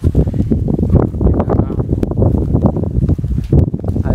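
Wind blowing outdoors near sweet lemon trees in Vathalmalai, Dharmapuri, heard as loud, continuous gusty rumble and buffeting against the microphone, steady throughout with no voices.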